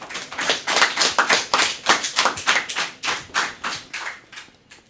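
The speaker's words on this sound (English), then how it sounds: "So let's get a round of applause for that." Steady, rhythmic claps, roughly three per second, loud and close with no voices, trailing off slightly toward the end.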